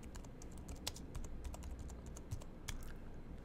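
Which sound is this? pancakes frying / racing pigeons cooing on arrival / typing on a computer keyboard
typing on a computer keyboard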